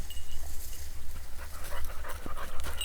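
A hunting dog pants close by near dense reeds during a hunting season outing, with quick rhythmic breaths and a few soft whimpers.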